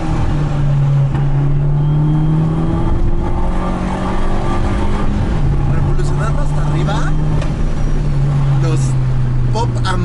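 A Fiat Abarth 500 turbo engine revs and drones steadily from inside the car, with lightly modified, near-stock parts and a filter upgrade, its loud tone rising and holding throughout alongside cabin noise.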